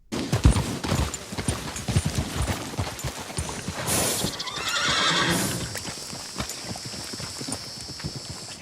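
A video game horse whinnies during a stable animation while hooves clip-clop steadily, followed by a brief rushing whoosh; clear and close with no talking.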